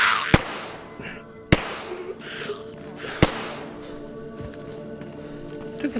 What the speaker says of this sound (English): Took a few shots there.